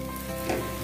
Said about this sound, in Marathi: अंडी छान फ्राय झालेली आहे